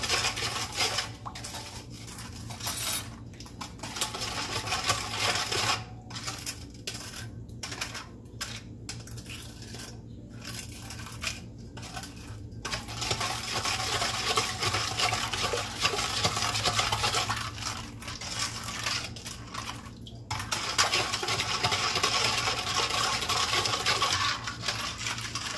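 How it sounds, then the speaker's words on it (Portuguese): Yeast is stirred into a little water in a bowl for homemade bread, a steady run of close scraping and light clinking from utensil against the bowl, with pauses and no talk. "Eu vou colocar um pouquinho de água. Pra mixar esse fermento."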